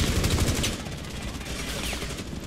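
Rapid bursts of automatic gunfire crackle from Rainbow Six Siege on hard-difficulty Terrorist Hunt, dense and loud at first, then easing into continuous background shooting.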